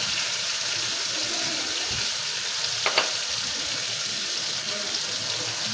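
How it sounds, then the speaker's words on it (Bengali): Dried shrimp sizzling and frying in a pan, a steady broadband hiss with a brief stirring scrape near the middle, close and continuous with no talking. "ভালো করে আমি এই চিংড়ি শুটকি কষিয়ে নেব।"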